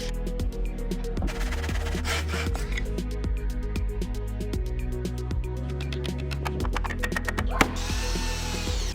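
A power screwdriver drives 40 mm self-tapping screws into a wooden strip glued with PVA at the centre of a door frame, giving a continuous whirring with clicks and knocks at close range, with no talking.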